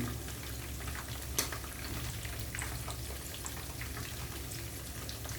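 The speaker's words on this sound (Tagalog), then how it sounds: "habang niluluto natin ang ating mani" Peanuts and garlic fry together in a pan, producing a constant crackling sizzle with scattered pops and a single brief clatter early on, steady and close without speech.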